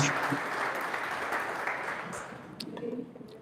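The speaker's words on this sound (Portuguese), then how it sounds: "Você pode aplaudir o nome de Jesus por essa palavra. Aplauda o nome dele." A church congregation applauds at a Portuguese-language worship service, a steady wash of clapping across the whole stretch, with a few faint voices rising near the end.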